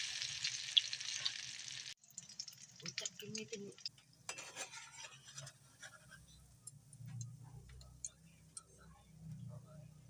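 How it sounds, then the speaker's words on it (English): Squash and eggplant omelette patties frying in hot oil in a pan, a low steady sizzle with scattered ticks and clinks of a utensil, moderately quiet and close, with a voice speaking over it. "then fry until slightly brown."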